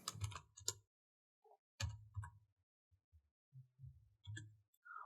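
Keys on a computer keyboard are tapped in a few faint, scattered clusters separated by stretches of silence, with no voice.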